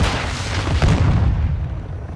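A dense, loud rumble of booming explosions in Call of Duty: Modern Warfare II rolls on continuously, with a sharper burst in the middle before slowly easing off.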